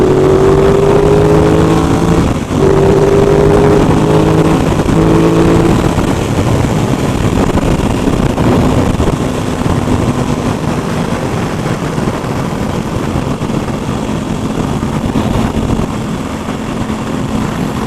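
Aprilia RS660 motorcycle engine while riding, a loud continuous drone with rising and falling revs and gear changes, heavy wind rush throughout and no talk.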